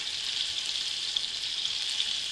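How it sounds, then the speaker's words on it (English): Filet medallions sizzle steadily in a hot pan as they are basted with fresh rosemary, a continuous bright hiss with small pops, close and alone. "I'm going to start basting them with my rosemary"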